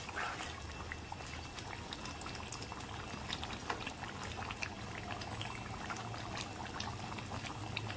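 Mutton curry simmers in a pot over low gas, giving faint, continuous bubbling and gurgling, quiet and steady throughout with no speech.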